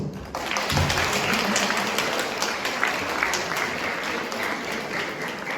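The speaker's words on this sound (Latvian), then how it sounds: "Aplausi." Audience clapping for young performers on stage at a dance school anniversary show, dense sustained applause at fairly loud level throughout, with scattered individual claps standing out.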